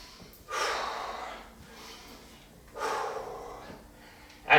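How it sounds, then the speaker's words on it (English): Deep, audible breaths during a lunge workout, two strong exhales roughly two seconds apart, close and fairly loud, with quieter breathing between them. "Deep breaths here."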